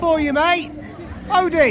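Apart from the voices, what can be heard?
No everyday noise stands out behind the speech.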